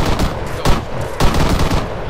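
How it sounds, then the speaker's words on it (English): Machine gun fire in the ArmA 3 combat game: loud, sustained crackling gunfire with heavier bursts standing out at intervals over continuous shooting. "Machine gun. Under fire!"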